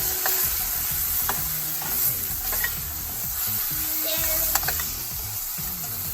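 A pan of simmering sauce with lemon juice just added is stirred, a continuous frying hiss under faint scraping strokes, close and fairly loud, with no voices.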